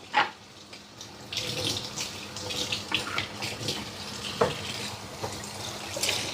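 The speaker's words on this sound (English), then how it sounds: "I have to get those blades rinsed off and out of my way" Kitchen blades are rinsed under a running tap, a steady close splashing stream with a few sharper knocks and clinks against the sink, and no voices.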